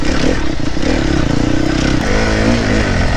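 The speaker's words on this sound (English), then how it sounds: "Oh, that engine braking." A 300cc four-stroke dirt bike engine braking, loud and close, its motor popping and burbling over a steady mechanical drone, with clattering underneath and no voices.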